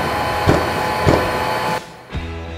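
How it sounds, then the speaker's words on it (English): A Hilti VC 40-UE vacuum runs with a loud steady drone while its internal filter-cleaning mechanism thumps three times in even succession, each knock sharp and close, before the motor tone drops and shifts. "The internal cleaning mechanism thumps 3 times, clearing dust out of the filter every 15 seconds."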